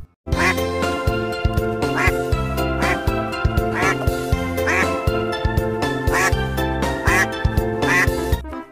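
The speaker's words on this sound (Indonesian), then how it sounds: "ada bebek, teman-teman, warna putih" A white duck quacks in repeated bursts over loud, continuous background music, with a regular rhythmic pattern throughout.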